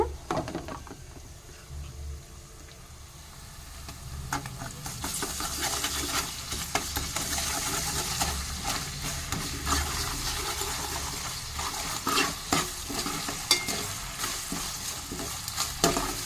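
Chopped onions with ginger-garlic paste frying in a pan for an ivy gourd curry, a steady close sizzle growing louder with frequent clicks and scrapes of a spoon stirring against the pan.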